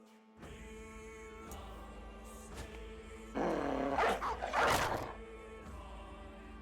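Dogs in a video game growl and bark, with a low rumbling growl building to a louder cluster of barks near the middle, over steady game background sound.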